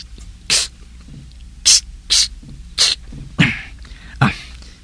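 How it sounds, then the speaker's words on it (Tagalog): Six sharp hissing bursts of cologne spray in a room, each brief and loud, spaced about half a second to a second apart, with no talking. "Karon, mang spray ako sang kolon."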